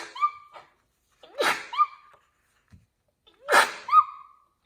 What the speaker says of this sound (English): I'm going to sneeze. I can feel it coming.